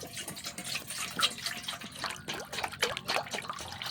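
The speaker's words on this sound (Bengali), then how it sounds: "এরপর আমি গামলার মধ্যে নিয়ে নেব জল।" Water pours into a basin at close range, splashing and gurgling in uneven bursts that rise and fall, with no speech.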